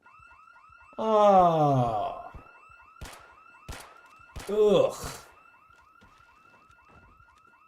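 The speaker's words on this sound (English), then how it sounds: "An alarm." Car alarm blaring in the Project Zomboid video game, a steady repeating electronic whoop cycling throughout, with a man's loud groaning exclamations and a couple of sharp thumps over it.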